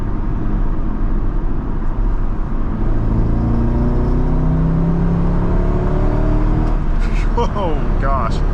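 A 2000 Chevrolet Corvette C5 accelerates on the road, its engine note climbing steadily in pitch over a constant loud rumble of road and wind noise. Brief squeaky sounds follow near the end.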